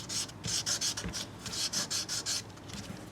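Abrasive swiped back and forth over the frets of a 1997 Gibson Les Paul with worn frets, about ten quick rasping strokes in a steady rhythm, close and clear with no talk.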